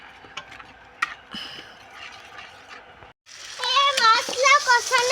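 Spice paste for rui fish kalia being stirred and fried in a pan, with soft scraping and clinking at first, then a voice speaking over the cooking.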